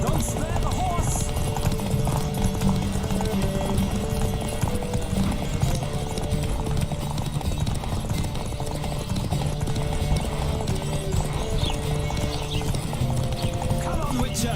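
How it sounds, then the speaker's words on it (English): Horses gallop in a race in the video game Witcher 3, a steady dense clip-clop of hooves running throughout with an occasional whinny, continuous and loud under spoken voices and game music. "Don't spare the horse!"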